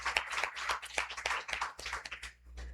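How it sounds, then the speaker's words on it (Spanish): A church congregation claps in an irregular, spirited burst of applause for the Lord, many hands patting together at moderate volume with a low hum beneath. "Un aplauso al Señor"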